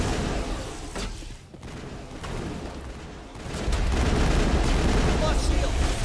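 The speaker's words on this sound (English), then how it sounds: "Oh, that's rockets there." Rocket fire and explosions from the Mass Effect game, a series of loud booming blasts and crackling gunfire that swell into a sustained dense barrage, with a voice talking over the combat.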